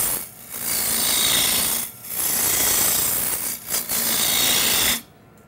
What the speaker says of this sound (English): Now back to the spindle roughing gouge to remove a lot of material for the taper of the leg.